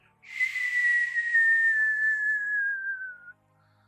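A single high, airy whistle of wind during dragon flight in World of Warcraft: Dragonflight slides slowly downward in pitch for about three seconds, then cuts off into quiet.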